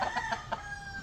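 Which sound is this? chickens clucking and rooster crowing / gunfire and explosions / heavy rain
chickens clucking and rooster crowing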